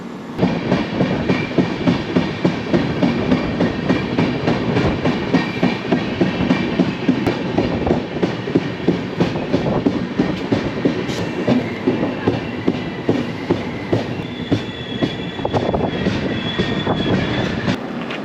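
A long-distance passenger train running from Danapur toward Bengaluru, heard from on board: a steady, loud rumble with a continuous rapid clickety-clack of wheels over rail joints and a faint squeal near the end.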